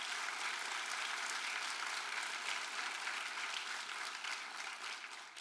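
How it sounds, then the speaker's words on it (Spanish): Congregation applauding in a church service, a continuous soft wash of many hands clapping, fairly distant and faint, tapering off slightly at the close with no voices over it. "Fuerte aplauso al Señor por eso."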